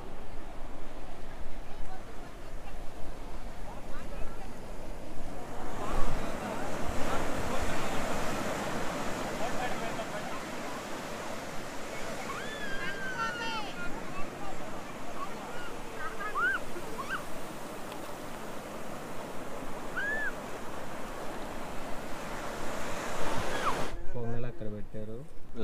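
Beach waves and wind by the sea, a continuous rushing roar of surf and gusts. Wind buffets the microphone, and a few faint voices rise in the distance.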